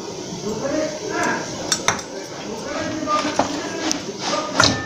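A wok is set down on a gas stove, with a few sharp metallic clanks and clinks of cookware over a low kitchen background and a faint, indistinct voice.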